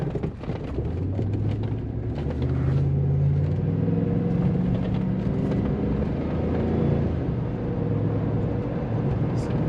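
A large Chevy truck with a vibration problem accelerates along a main road, a steady low engine rumble rising in pitch and filling the whole stretch, heard from inside the cab with no talk.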